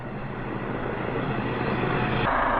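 Helicopter flying overhead at night above open ground near Elton Reservoir, a steady broadband engine and rotor rumble, moderately loud and continuous throughout with no voices.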